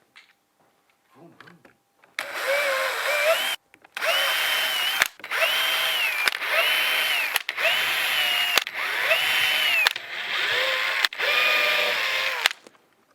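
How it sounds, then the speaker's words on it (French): A power drill with a 2 mm bit pre-drills screw holes for hinges on a compost bin, sounding as a series of short whirring bursts with brief pauses between them and a few faint clicks before the first burst. "Pré-percez les passages de vis à l'aide de votre mèche de 2 mm."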